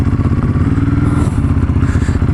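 Ducati Hypermotard motorcycle engine on a test ride in Concord, California, a loud, close, rumbling drone with a steady throb and wind noise, no talk.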